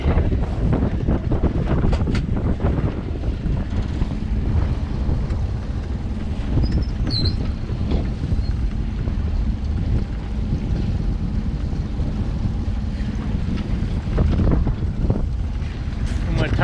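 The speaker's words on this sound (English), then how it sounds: "I'm going to tidy up a few lines while we're motoring back towards the mouth of the marina" Sailboat motoring back toward the marina in the wind, with a steady low engine drone and heavy wind buffeting on the microphone throughout, loud and constant, with a voice now and then.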